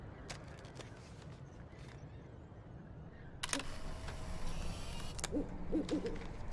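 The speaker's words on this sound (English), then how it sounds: "Let's take a photo of the owl." An owl hoots in the video game Life is Strange. The soft, repeated hoots sit under quiet ambience, with a sharp camera shutter click partway through and faint footsteps.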